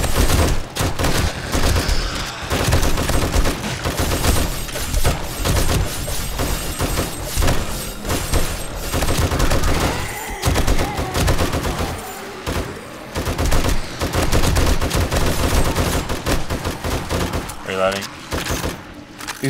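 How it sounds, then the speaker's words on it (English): Heavy rapid gunfire from a zombie horde fight in 7 Days to Die Darkness Falls, loud and nearly continuous bursts for the whole stretch, with players talking over it. "Shoot the crawler in front of my window, I'll shoot the one in front of yours."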